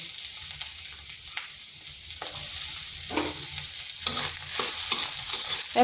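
Chopped onion sizzles and fries in a hot pan while a utensil stirs it, a steady close crackle with brief scraping strokes and no talking.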